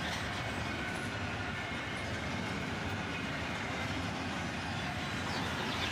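A CSX freight train hauling intermodal shipping containers rolls past close by, a steady loud roar of wheels and cars with continuous rumble and rattle throughout, no voices.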